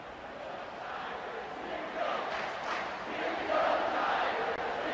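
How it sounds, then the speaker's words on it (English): Stadium crowd noise in the College Football 25 video game, a steady dense roar that swells louder toward the end, with broadcast commentary voices layered in. "Listen to this crowd just shaking the girders of this place, trying to help their defense."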